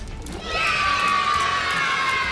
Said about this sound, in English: Thank you for the perfectly timed children cheering.